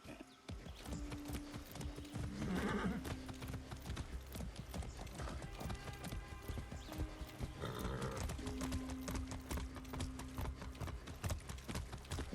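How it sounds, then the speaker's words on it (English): Horse hooves galloping in Far Cry 6, a steady rapid clip-clop rhythm that runs close and loud the whole time over game music, with a couple of brief snorts. "riding a horse."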